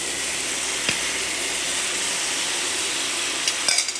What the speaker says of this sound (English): you're going to hear a bit of a sizzle when this goes in